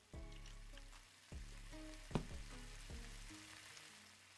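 Salty butter fries in a pan in the Cooking Simulator video game, with a faint steady sizzle under a droning musical background and a few brief clicks and clatters.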